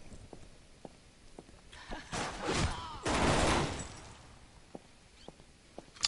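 Gunfire in the shooter Necrovision: a fairly close burst of loud, rough blasts in the middle, with faint sharp clicks and taps scattered before and after.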